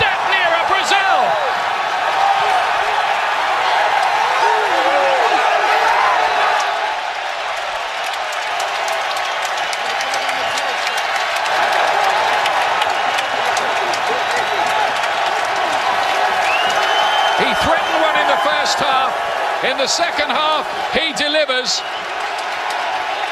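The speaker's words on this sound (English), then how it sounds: "And the crowd here in Columbus, Ohio are going wild." A large football crowd in Columbus, Ohio roars and cheers after a USA goal against Mexico, a dense, sustained wall of noise with whoops and applause running throughout beneath steady commentary.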